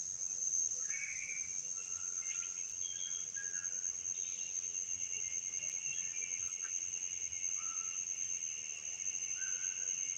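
Cicadas shrill outdoors on a farm in a lush, jungle-like setting, a steady high-pitched drone that runs unbroken through the whole stretch, with a few brief chirps popping up faintly behind it.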